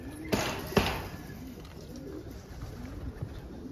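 Pigeons coo inside a snowy shed, soft low throaty calls repeating close by after two sharp knocks or wing-flaps near the start, with a steady background hum.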